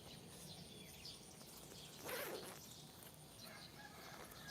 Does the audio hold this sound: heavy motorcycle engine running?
no